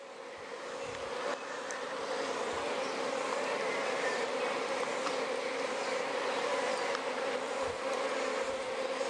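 Dense, steady buzzing of many honey bees close by at an open hive, a continuous droning hum that fills the whole clip.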